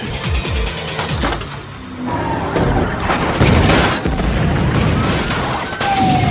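Dense film battle audio with repeated sharp gunshot bursts and heavy booms, loud and continuous throughout, with no clear talk.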